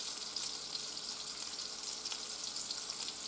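Beef roast tied with string searing in a hot pan for a slow cooker dish, giving a steady, dense sizzle and fry crackle that holds fairly close and even throughout, with no voices.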